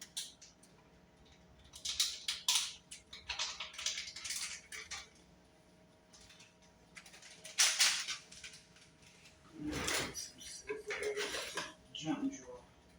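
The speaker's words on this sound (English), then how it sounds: "Let me pour a packet in here." A packet of seasoning is poured into a cooking pot with butter in a home kitchen, bringing brief rustling and clattering against the pot amid scattered clinks of dishes and utensils, with no talk.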